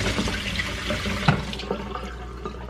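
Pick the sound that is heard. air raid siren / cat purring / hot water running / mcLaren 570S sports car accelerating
hot water running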